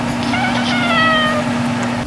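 Daisy, a pet cat, lets out one drawn-out, close meow that rises and falls over about a second against a steady background hum.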